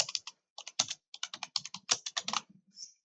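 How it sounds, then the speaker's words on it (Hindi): Keys clatter steadily on a computer keyboard as someone types a practice exercise, with quick irregular bursts of clicks, close and alone. "इस तरह से आपको टाइपिंग करना है।"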